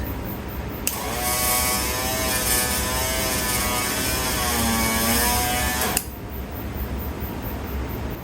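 A 1959 Cadillac power antenna mast retracts with a steady, loud electric motor whine and gear drone that starts abruptly, runs about five seconds and stops sharply, with faint background hum before and after.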